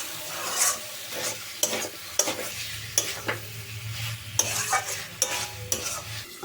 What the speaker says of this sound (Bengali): এবার মাংস আর আলুটা একটু ঢাকা চাপা দিয়ে ভালো করে কষিয়ে নিতে হবে।